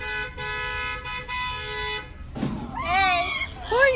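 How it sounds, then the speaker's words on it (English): A car horn honks in a long sustained blast, then a couple of short toots, followed by a shaky, wavering voice-like wail, loud and close at a car wash. "Who are you honking at?"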